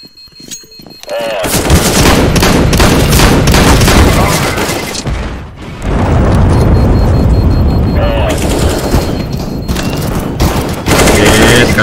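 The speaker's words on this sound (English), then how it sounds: "Aduh, flashbang, flashbang." A chaotic CS:GO match with a flashbang grenade going off amid continuous loud gunfire, bursts and booming blasts that run almost without pause, dipping briefly near the middle before surging again.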